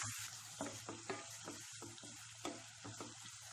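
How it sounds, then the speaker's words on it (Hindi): Chopped onions fry in a pan for an eggplant curry, cooked until golden brown, giving a steady, soft sizzle and crackle with occasional stirring scrapes, fairly quiet and with no talking. "इसको अच्छे से भून लें गोल्डन ब्राउन होने तक"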